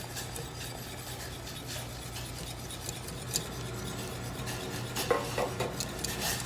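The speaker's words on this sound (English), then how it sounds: "We're just basically gonna stream it in while we're stirring." Polenta being streamed into a pot and stirred, a soft continuous scraping with a few utensil taps against the pot over a low steady hum, quiet and without speech.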